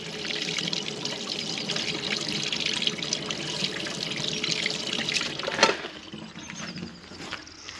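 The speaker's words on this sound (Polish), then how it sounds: "Zobaczmy, czy pompa działa." A garden water pump in a vegetable plot pushes water through, making a steady rushing, splashing flow close by. A brief louder burst comes near the end before the stream eases off a little.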